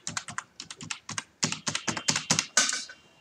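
Rapid keystrokes on a computer keyboard as an Aadhaar UID number is entered, crisp irregular clicks in short bursts, close and clear with no talking.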